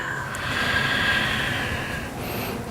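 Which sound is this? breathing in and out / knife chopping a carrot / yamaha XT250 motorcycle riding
breathing in and out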